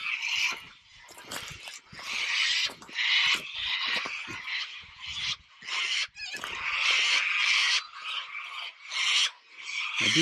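A dense chorus of frogs croaking close by in a creek on Ulupna Island, overlapping calls rising and falling in steady waves with brief lulls, no voices.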